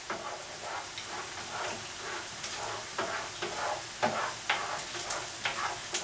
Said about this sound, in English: I'm going to let that cook and kind of scramble it in the pan